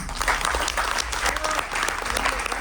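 Audience applause at a Ganesh Chaturthi festival gathering, continuous clapping from a crowd with some voices mixed in, steady and fairly loud throughout.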